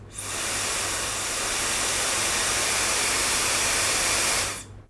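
Yoole S+ hair dryer switched on at its first setting, a steady loud airy whoosh with a faint low hum that starts abruptly, runs evenly for about four seconds, then cuts off.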